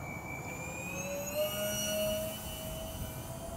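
A steady high electric whine from the twin motors of a Delta Twin D2 FPV model plane flying at under half throttle, with a slight Doppler-like pitch drift as it passes; continuous, moderately loud and without speech.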